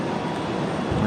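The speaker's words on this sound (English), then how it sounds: "All right, it looks like we got a 737 on final. This one coming in from Houston, American Airlines at 3162." An American Airlines Boeing 737 jet arriving from Houston on final approach makes a steady, broad roar of engine and air noise, fairly loud and continuous.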